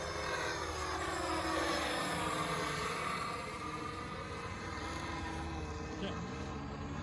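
A winged H-frame quadcopter drone flies overhead outdoors, its steady buzzing rotor whine holding at moderate distance throughout with slight pitch shifts as it turns.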